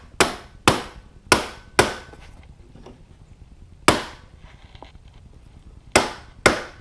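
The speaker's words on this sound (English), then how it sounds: "if it doesn't immediately seat all the way, use a very soft rubber mallet" A very soft rubber mallet knocks a motorcycle triple tree down onto its steering stem on a KTM RC390, sharp close taps in an irregular series of about eight, some in quick pairs, separated by near silence.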